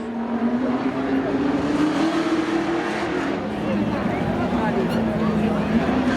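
Pontiac GTO drag racing at Seekonk Speedway during a spectator drags event, a sustained engine drone whose pitch rises then settles, heard under continuous announcer commentary.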